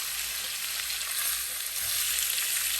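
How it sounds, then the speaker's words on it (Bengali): Fish fries in a pan with oil for a beef and bottle gourd dish, giving a steady, soft, close hiss of sizzling with no talk. "কিছুক্ষণ ভেজে নিচ্ছি মাছটা"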